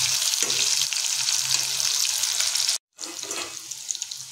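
Pointed gourd pieces fry in oil in a wok, giving a loud, steady hiss with faint crackles that cuts out abruptly for a moment and then resumes, slightly quieter and with occasional pops.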